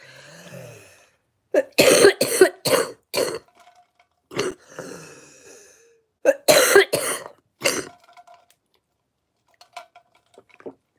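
Repeated harsh coughing fits, several rapid coughs in clusters with short pauses, close by, followed by faint clinking sounds.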